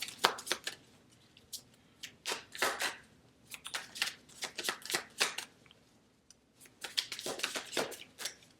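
Tarot cards being shuffled by hand in quick, riffling bursts separated by short pauses, close and crisp, with no talking.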